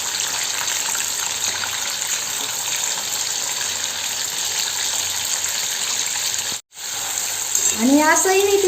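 Pieces of fish fat fry in a pan for a masala fry, with a steady hissing sizzle that carries on throughout; it drops out for a moment, then a voice speaks briefly over it near the end.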